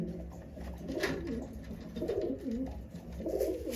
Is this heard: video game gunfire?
no